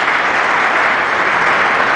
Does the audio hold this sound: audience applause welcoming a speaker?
yes